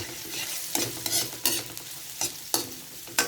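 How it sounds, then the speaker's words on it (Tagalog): Garlic and onion fry in hot oil under a constant sizzle, broken by repeated loud stirring scrapes and clatters of a spatula against the pan at an uneven rhythm. "haluin natin ang bawang, sibuyas, sa mainit na mantika"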